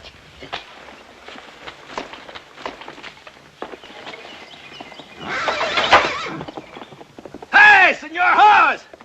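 A horse in a Western setting neighs loudly twice in close succession near the end, preceded by hooves clip-clopping and scattered footsteps on the ground.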